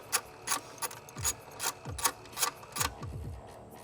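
A ratchet wrench loosens a 10 mm bolt in the engine bay of a Nissan 370Z during a supercharger install, giving a series of close, crisp clicking bursts with brief pauses, and no talk.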